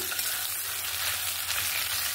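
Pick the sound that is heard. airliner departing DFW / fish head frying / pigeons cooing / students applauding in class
fish head frying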